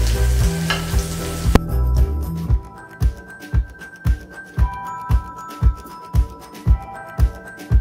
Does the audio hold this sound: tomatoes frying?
yes